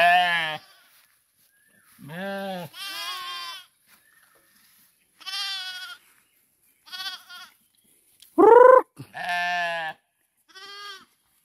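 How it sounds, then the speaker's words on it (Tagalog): Farm sheep bleating near a water spot, several loud, drawn-out calls from more than one animal, spaced by short quiet gaps, close to the listener and with no speech. "yung mga alaga natin tupa ka-farmers"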